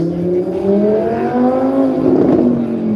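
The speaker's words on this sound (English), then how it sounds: "So Audi R8 V10 Plus. Just have a listen to this." Audi R8 V10 Plus with its 5.2-litre naturally aspirated V10 revving at a motor show, a loud, close engine note that rises steadily in pitch with a smooth building howl.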